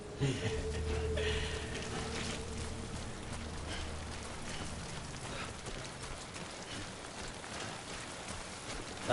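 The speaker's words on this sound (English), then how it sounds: "It's raining again." Rain in the video game Death Stranding falls as a steady, fairly quiet patter, with a low rumble and a few soft thuds near the start.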